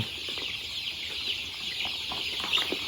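Chickens cluck softly and repeatedly at a moderate distance, with a few sharper calls over a quiet outdoor background.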